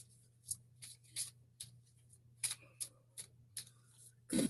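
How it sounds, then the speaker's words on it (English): Law of attraction oracle cards are shuffled by hand in a quiet room, a series of crisp, uneven riffling bursts and soft slaps spaced across the moment. "I'm shuffling the law of attraction cards for affirmation."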